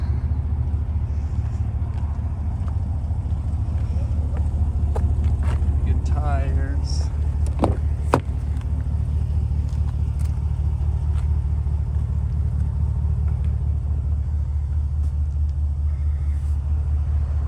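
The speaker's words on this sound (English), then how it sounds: "This does have an exhaust on it, so a little bit of a throatier sound." A deep, throaty engine rumble from a 2020 GMC Sierra 1500 Denali pickup with an aftermarket exhaust idles steadily throughout, loud and close, while a man makes a brief remark over it.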